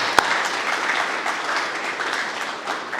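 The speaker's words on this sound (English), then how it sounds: "Give us yourselves a round of applause" A crowd at a corporate celebration for a fuel launch applauds, producing a steady, moderately loud wash of clapping. One sharp knock stands out right at the start.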